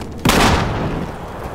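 A loud incendiary grenade blast from the Battlefield Hardline multiplayer game, a sudden broadband boom that holds as a roaring wash of fire and gunfire for over a second.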